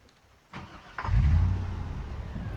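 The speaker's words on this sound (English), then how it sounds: "I'm actually going to park the car inside" A car engine in the video game Project Zomboid turns over and starts, then settles into a steady low idle rumble, close and alone without speech.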